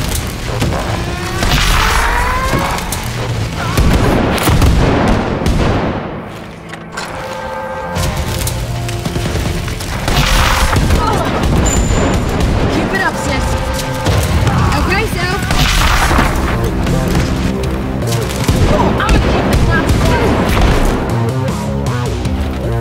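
A big gun fires repeatedly in the shooter Wolfenstein: Youngblood, with heavy booms and crashing impacts packed into a loud, continuous barrage. Someone talks over the gunfire.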